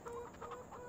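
Chickens on a farm in the video game Farming Simulator 2017 give a few soft, quiet clucks in a short burst, heard alone.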